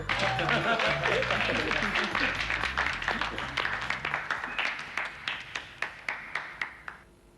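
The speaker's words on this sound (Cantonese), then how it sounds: "咁精彩仲唔俾掌聲佢？" An audience bursts into dense applause that gradually thins out into a handful of slower, separate claps before stopping.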